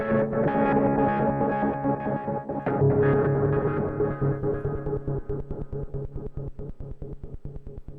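Moog Matriarch synthesizer playing a square-wave modulated tone through reverb, starting as a dense sustained drone with swelling tails, then breaking into rapid, evenly pulsing stabs that repeat steadily with a distorted, echoing edge.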